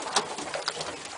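Racing pigeons cooing close by on a house roof, soft repeated throaty coos in quick succession with no talk.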